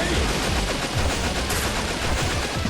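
Gunfire from the video game Metal Slug Awakening, a dense, loud, continuous stream of rapid shots rattling throughout without a break.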